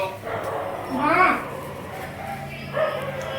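A pet dog at home gives a few short barks and yips, close by, mixed in with a voice and household chatter.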